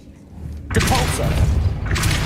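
A Depulso force spell cast in Hogwarts Legacy bursts out as a sudden loud whooshing blast with a heavy thud, then rumbles and crackles briefly before fading, mixed with game voices.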